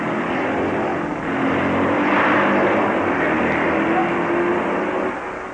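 Racing motorcycles at the 1958 Catalina Grand Prix roar past in a steady, loud engine drone that swells and holds before easing off near the end, with no talk over it.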